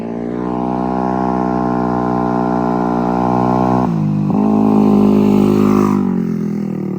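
After an engine swap, a small engine runs at full throttle with a steady, loud buzzing drone. It dips and stumbles briefly midway, then picks back up and holds before fading slightly at the end.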